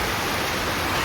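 Heavy rain pours down in a dense, unbroken hiss, loud and close, with no voices.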